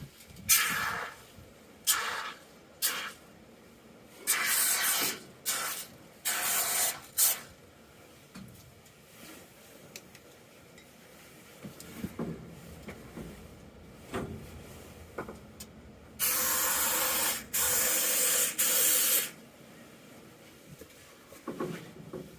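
Max chain and cable lube sprays in short bursts onto the seat slide of a Ford 4500 backhoe, with several sharp hissing spurts close by, the longest near the end, between soft scraping and handling noises.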